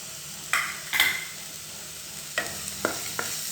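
Onions and ginger-garlic paste fry in a pan for a kundru curry, with a soft sizzle broken by several sharp scrapes and knocks of a stirring spoon, close and without speech.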